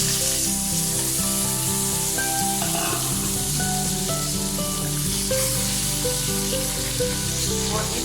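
Chicken pieces dropped into a pan of sizzling ginger and garlic fry with a loud, steady crackle and sizzle throughout, with faint stirring and no talking.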